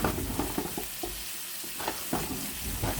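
Leftover shrimp tossed in a hot frying pan, with a dense continuous sizzle and soft scraping and shuffling as the pieces move, close and steady, no voices.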